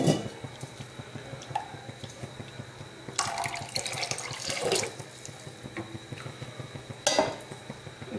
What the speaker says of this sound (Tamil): இந்த 1 டம்ளர் தண்ணி அதையும் ஊற்றிடலாம்.